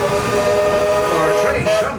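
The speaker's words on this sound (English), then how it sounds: "Our train comes to a complete stop." Walt Disney World Railroad steam train at Magic Kingdom, a sustained steam whistle tone sounding close and loud over the rumble of the rail cars, with a brief shift in pitch near the end.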